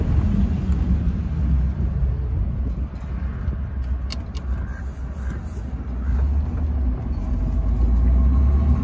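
1938 Packard Twelve Roadster being driven, a steady heavy engine rumble with road noise, loud and close, swelling slightly near the end, with no talking.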